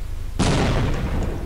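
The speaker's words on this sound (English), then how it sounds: "I wanna shoot all those explosives" Explosives blow up in the Half-Life video game, a sudden loud blast that bursts in after a short quiet moment and then rumbles and crackles as it decays over about a second.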